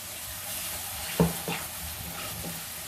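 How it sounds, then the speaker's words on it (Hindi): Ground masala gravy frying in oil for a Sindhi-style rawas fish curry gives a soft, steady sizzle, with a few brief stirring scrapes and clinks near the middle, quiet and close with no talking. "इसमें हम डालेंगे ग्रेवी जो हमने पीसी है, और इसे हम 1 मिनट तक भून लेंगे।"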